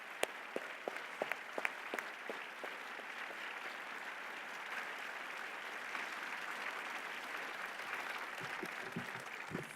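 A luncheon audience gives award recipients a sustained round of applause, steady dense clapping filling the room at moderate distance, with a few sharper individual claps standing out near the start.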